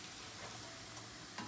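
Tempeh frying in a pan with oil, a steady soft sizzle that hisses continuously at low volume, with a faint stir or clink near the end and no talking.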